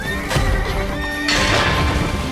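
A loud, close horse neigh with clip-clopping hooves in the horse racing video game Alicia Online, a single drawn-out whinny over busy game sound.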